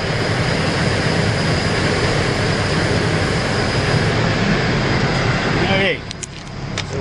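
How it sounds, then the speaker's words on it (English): Strong wind buffets an outdoor scene in a loud, continuous broadband roar that drops away abruptly near the end. "I apologize for the wind."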